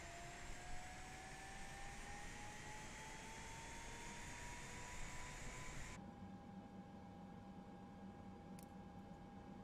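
An aircraft engine on an ATR 72-style turboprop in Microsoft Flight Simulator runs as a steady, loud droning whine with rising tonal lines, then the tone shifts and settles into a slightly lower, even hum.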